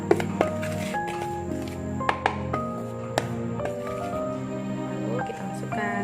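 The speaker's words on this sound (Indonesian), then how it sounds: "tepungnya ini kita aduk dulu dengan susu bubuknya biar rata" Flour and milk powder are stirred into cake batter for a pineapple jam roll cake, giving soft squishy scrapes and a few light ringing taps of utensil on bowl, close and fairly quiet.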